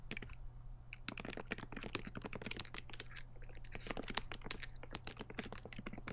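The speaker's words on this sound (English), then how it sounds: "just typing something" Rapid, uneven clicking of keys being typed on a laptop keyboard, close and continuous with brief pauses, fairly quiet throughout.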